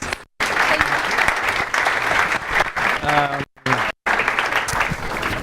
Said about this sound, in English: A round of applause for Pao and James.